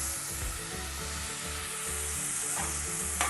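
Salted vegetables frying in a pan and being stirred, with a dense, even sizzle heard up close throughout and a sharper scrape near the end.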